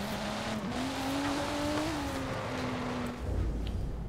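Fast car in the video game Forza Horizon 4 races along, engine holding a steady high drone with small pitch shifts before a low rumbling thump near the end, continuous and close without talk.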